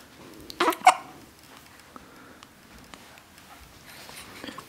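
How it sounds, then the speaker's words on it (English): A baby hiccups in a couple of short, sharp bursts near the start, then quiet soft movement and small sounds follow close by. "do you have the hiccups?"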